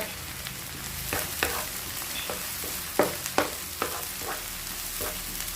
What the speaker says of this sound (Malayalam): അത് നല്ലോണം പൊരിഞ്ഞ് കിട്ടണം.